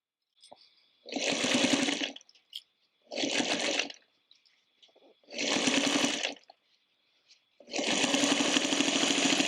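Sewing machine stitching a fabric bowl cozy in four separate bursts of rapid, whirring motor-driven stitching, each lasting about a second or more, with short quiet pauses and faint clicks between them.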